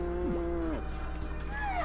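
A cow in the Harvest Moon: Magical Melody farming game gives a clear moo, followed by a shorter rising second call, both near and distinct over a quiet backdrop.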